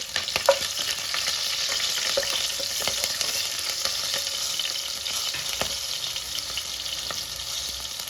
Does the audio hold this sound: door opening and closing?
no